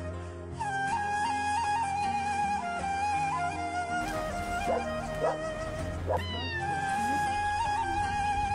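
A village cat meows several times in drawn-out, rising cries against a steady, busy background, loud and close.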